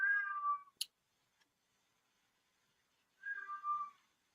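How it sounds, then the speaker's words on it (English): An angry cat yowls twice from indoors, a drawn-out, strained meow, then a short pause and a second longer complaint, fairly close and clear, with a small tick between them and otherwise quiet. "Somebody has an angry cat."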